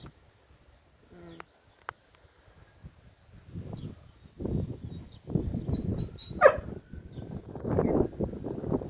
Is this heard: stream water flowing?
no